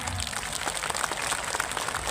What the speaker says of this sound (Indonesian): Tepuk tangan tuh Pak Lurah